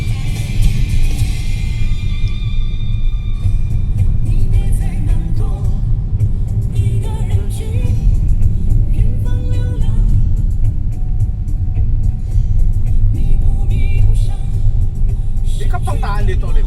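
Car driving on an uncongested road on a trip to the grocery, with a steady low engine and road rumble running throughout and people talking over it.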